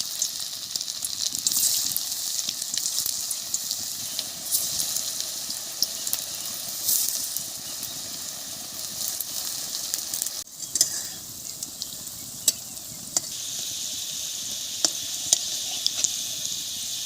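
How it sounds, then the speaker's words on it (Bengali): Jackfruit dhoka pieces fry in hot oil in a village kitchen, giving a steady, close sizzle with occasional stirring clicks and scrapes of a utensil. "এখন এগুলো তেলে ভেজে নেব।"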